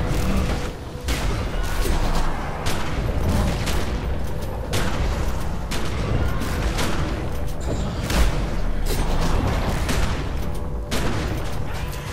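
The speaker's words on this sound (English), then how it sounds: "Explosion of some sort." Explosions and gunfire-like blasts from the video game The Secret World come in a rapid series of sharp bursts and booms over a dense rumbling background, loud and continuous.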